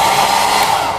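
A hair dryer in a hotel room blows as a steady, loud whooshing hum that holds evenly through the whole short moment, close by with no other sounds.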